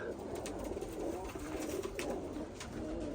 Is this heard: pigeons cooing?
yes